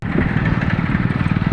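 A motorbike pulls away close by, its engine giving a steady, throbbing putter that holds at a fairly loud level for over a second, with no voices.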